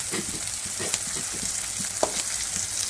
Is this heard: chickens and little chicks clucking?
no